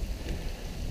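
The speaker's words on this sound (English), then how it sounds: "We're getting hailed on." Hail pounds down during a mountain storm near Gardner Peak in Utah's Pine Valley Mountains, making a dense, constant hiss and patter of ice over a deep rumbling wash, with no voices.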